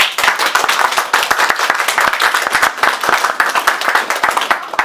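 An audience at an author Q&A during a winter festival breaks into warm applause, a dense run of close, loud hand claps sustained for several seconds.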